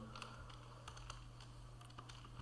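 Quick, light typing on a computer keyboard while entering C++ code, soft irregular key clicks heard alone over a low steady hum.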